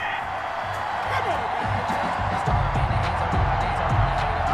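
Angry crowd in a Madden NFL 21 video game stadium reacting to a penalty flag on third down, a steady broad roar that swells louder partway through, with commentary voices over it.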